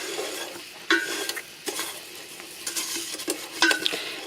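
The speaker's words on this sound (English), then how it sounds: "You don't want to have your hand down in here when you're putting the beef in, because it's going to spit" Beef fries and spits in a hot pan for coconut beef as a long-handled spoon stirs it, giving a steady sizzle broken by sharp scrapes and clinks against the metal.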